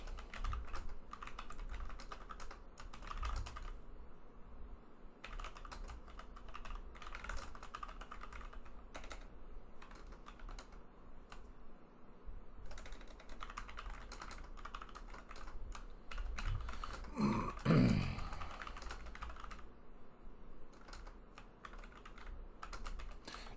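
Someone types steadily on a computer keyboard while posting to a Facebook page, with close, rapid key clicks in uneven bursts and a louder clatter of keystrokes near the end.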